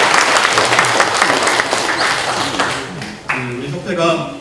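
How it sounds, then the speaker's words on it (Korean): A church congregation at Sunday worship claps loudly and densely, the applause running under a voice speaking over it and fading as his speech takes over. "박수는 크게 치셔야 건강이 좋습니다"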